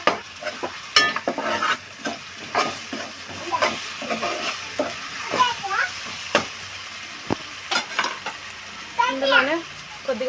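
Sliced onions frying in a pan with a spoonful of ginger paste, a steady close sizzle broken by scraping stirs and taps of a spoon against the pan, with a voice speaking over it at times.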